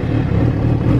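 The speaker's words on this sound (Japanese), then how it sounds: "ではエンジンの方を始動していきます。" A Kawasaki ZRX400 motorcycle with a chrome four-into-one exhaust idles low and rumbling after starting, a close, steady throb with no voices over it.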